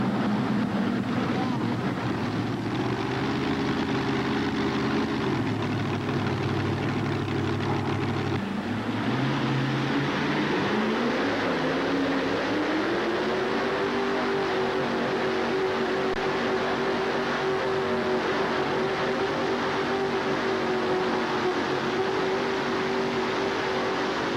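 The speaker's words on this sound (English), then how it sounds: "Let's see if the twin Chevrolet can get into a pull-off." A twin Chevrolet engine puller at a truck and tractor pull roars with a droning engine that drops, then climbs to a higher steady pitch under wind noise, heard at a distance with a commentator talking over it.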